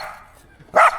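Small Jack Russell terrier gives a single sharp bark outdoors near a clay pit nature reserve, brief and fairly close after a quiet stretch.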